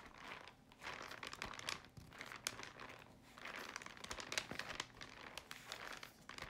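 Well-worn, crinkly pages of a Clairefontaine 1951 staple-bound notebook are handled up close. Soft, faint crinkles and rustles come in uneven bursts with brief pauses.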